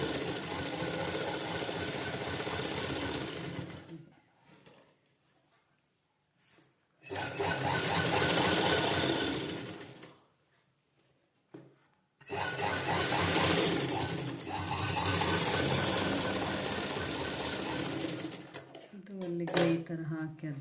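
Sewing machine stitching a blouse sleeve joint runs in three long bursts separated by pauses, a steady motor whir with clattering needle action, close and loud, with a brief rattle near the end.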